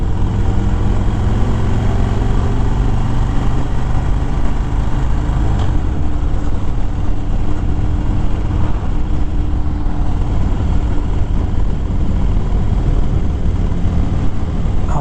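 A motorcycle rides at a steady pace through a quiet residential neighborhood, its engine producing a continuous, loud drone with wind rush throughout and no break in the sound.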